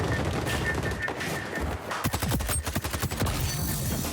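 Rapid automatic gunfire from new weapons in the video game XDefiant, including an SMG, LMG and shotgun, starting as sparse bursts and breaking into a loud, dense stream of close shots in the second half.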